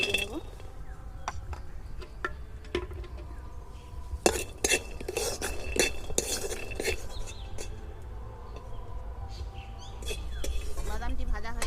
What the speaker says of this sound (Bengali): বাদাম দিয়ে আমি ভেজে নেব